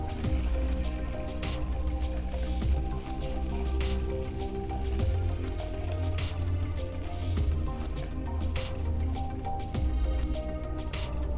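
Continuous stirring of caramel sauce in a pan taken off the heat, a steady close scraping and swishing that runs without pause and never lets up.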